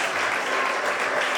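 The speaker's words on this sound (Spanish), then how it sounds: "Se aplaude" A church congregation applauds together: steady, dense clapping, loud and close, filling the whole short stretch without pause.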